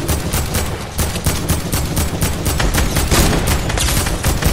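Sustained gunfire from a Fortnite weapon on PS4, dense rapid bursts of shots rattling continuously and loudly throughout, with no speech over them.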